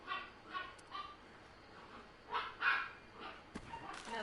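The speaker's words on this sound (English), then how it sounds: "Now that's my yappy dog." A small yappy dog barks in short scattered yips and bursts, a few close, sharp barks spread across a few seconds over a quiet indoor background.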